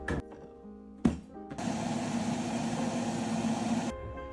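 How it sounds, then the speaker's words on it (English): A countertop blender whirs through a smoothie of fruit and ice, starting after a couple of clunks and a sharp knock, then holding a loud, steady motor drone for over two seconds before cutting off abruptly. "And we're now gonna blend our smoothie."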